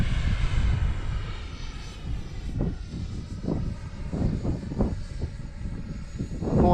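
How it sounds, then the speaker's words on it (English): An X-Fly TA-7 RC model jet flies past outdoors with a continuous, fairly distant engine roar that swells and fades, broken by gusty rumbles. "Well, that's a good sounding jet."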